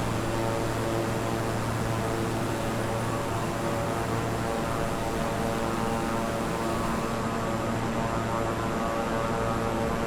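Continuous turboprop roar of a Beechcraft King Air 350i inside Microsoft Flight Simulator, a steady broadband whoosh over a low propeller hum whose lowest tone drops away partway through, loud and alone with no voices.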